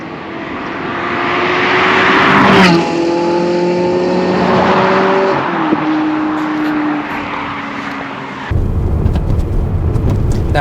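A Ferrari 360 Spider drives by with a rising, high-pitched engine wail that peaks loudly as it passes, then its tone glides down through gear-like steps and fades, followed by a duller rumble.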